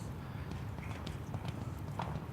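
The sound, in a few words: show-jumping horse moving in the arena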